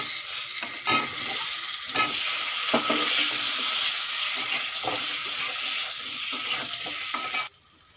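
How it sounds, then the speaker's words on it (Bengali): Boiled potatoes frying in hot oil in a pan, a steady bright sizzle with recurring scraping stir strokes roughly once a second, close and continuous until it drops away sharply near the end. "এই তেলের মধ্যে আলুগুলো ভেজে নেব সিদ্ধ করা আলু"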